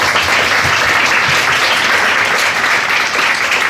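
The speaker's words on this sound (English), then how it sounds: "Can we give her a round of applause, please?" Steady, dense audience applause from a seated crowd at an evening machine learning and neuroscience panel event, continuous clapping throughout with no talk over it.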